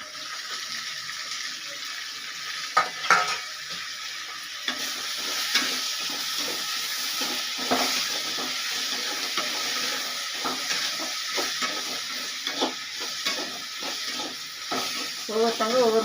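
Tomatoes sizzle steadily in a hot pan for a Nagercoil-style fish curry, with a constant frying hiss broken by scraping stirs and occasional clinks of a spoon, close up with no talk.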